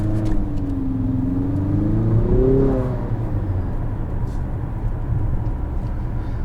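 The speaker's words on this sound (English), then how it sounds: "you roll into throttle, the turbo sounds are very present" Turbocharged engine of an Infiniti QX55 accelerating under throttle heard from inside the cabin, a steady loud drone with a rising then falling tone over road and wind rumble.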